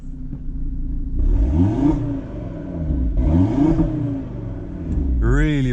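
Audi R8 V10 Plus engine revving hard in a few loud, rising bursts close by, with a roaring idle between blips and a final sharp rev at the end.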